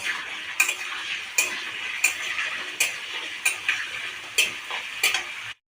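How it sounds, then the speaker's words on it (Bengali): Steady sizzle of potatoes with a little turmeric frying in oil, with sharp scraping stirs of a utensil at roughly regular intervals, close up. "তেলের মধ্যে দিয়ে দিয়েছি আলুগুলো। ওই তেল অল্প হলুদ দিয়ে দেব। দিয়ে ভেজে নেব।"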